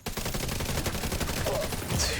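Rifle fire in a video game, a dense continuous stream of rapid shots heard close and steady throughout, with a faint voice slipping in underneath.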